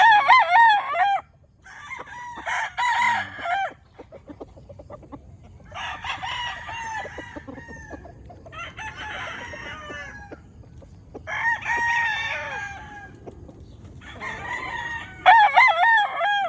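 Blue face hatch gamefowl roosters crow repeatedly at a farm, about seven loud close cock-a-doodle-doo calls spaced a second or two apart, with softer clucking and faint background noise between them.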